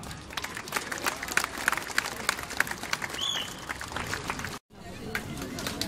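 Applause and scattered clapping from an audience at a brass orchestra concert in Rzeszów, a dense steady patter with crowd murmur mixed in, cut by a brief silent gap near the end before resuming.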